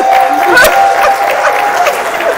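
Audience applause at a Pensacola community gathering honoring H.K. Matthews, welcoming Brian Wire; steady clapping from a crowd fills the whole stretch, fairly close and even, with a faint tonal hum beneath.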